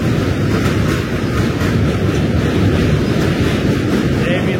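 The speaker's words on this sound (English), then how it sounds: "Lots of trains on this bridge." Train rolling across a railway bridge, a loud, steady rumbling roar with constant low noise and some wind buffeting, no pauses throughout.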